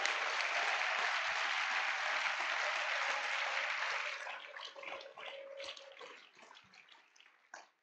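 A church congregation at a Sunday service applauds and cheers in a dense, loud roar of clapping that fades after several seconds into scattered claps and voices.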